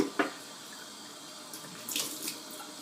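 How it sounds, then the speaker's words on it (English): Tap water runs into a sink as a 1960 Gillette Fat Boy safety razor is rinsed, a soft continuous hiss broken by a couple of brief splashy bursts, with no talking. "Rinse it off."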